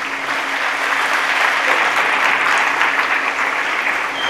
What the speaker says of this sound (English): So big round of applause for Terrence Talley.